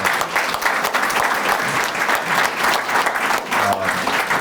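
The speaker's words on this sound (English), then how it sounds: "I just want to give you a round of applause for that" Audience applause fills a room at a community summit hosted by the Cleveland Cavaliers, a dense steady clapping that holds loud and even throughout with no voices on top.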